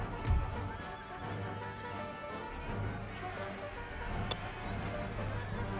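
Horses neigh and whinny amid a busy clatter of hooves and battle din in the video game Empire: Total War, with overlapping calls close by and crowd noise underneath.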